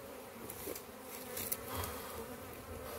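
Italian honey bees at a hive full of honey make a steady, close buzzing drone that continues without a break.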